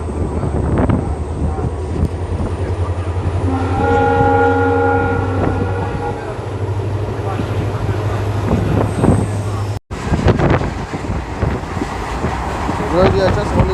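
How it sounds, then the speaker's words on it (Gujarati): An Indian Railways train pulled by a diesel locomotive runs at low speed, giving a steady rumble and a droning engine hum. A sustained horn-like tone sounds midway through. "16 સ્પીડે ટ્રેન ચાલી રહી છે અત્યારે"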